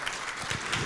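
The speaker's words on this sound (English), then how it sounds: "let's give her a little round of applause," A steady wash of clapping from a crowd at a district meeting, dense and even throughout the brief moment, with no voices standing out.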